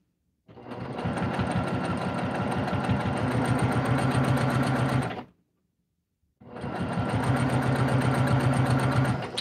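A sewing machine runs steadily, stitching the seam of a fabric project bag near its zipper teeth, in two long continuous bursts with a brief pause between them, loud and close with no talking.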